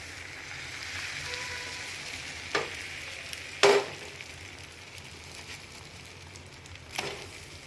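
Beaten egg fries on a paratha in a pan for an egg roll, making a soft, steady sizzle with a few brief utensil scrapes and knocks.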